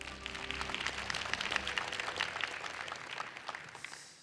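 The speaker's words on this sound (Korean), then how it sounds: "다시 한번 KNN 이호상 사장에게 큰 박수 부탁드리겠습니다." A forum audience at the 2022 Korean regional grand forum claps steadily in a dense, even patter that tapers off near the end.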